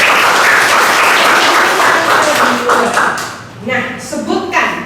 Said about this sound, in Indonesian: Tepuk tangan untuk Pia.